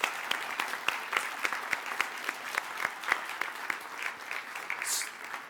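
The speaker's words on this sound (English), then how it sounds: "That deserves a big round of applause." Steady applause from the audience at a college graduation ceremony for the graduating class, crisp individual claps heard fairly close, with no voices over it.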